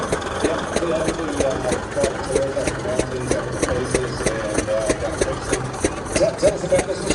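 A Kawasaki engine idles steadily with a rapid, even chugging pulse, close and continuous, while people talk over it at a show of traction engines, tractors and dirt bikes.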